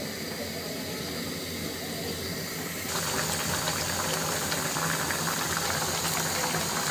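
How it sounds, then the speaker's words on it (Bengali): Hilsa fish curry broth boils in a covered pot, a dense, steady bubbling hiss that grows noticeably louder and rougher partway through and then holds, with no one talking. "ফাইনালি ঝোলটা আমার ফুটতে শুরু করেছে"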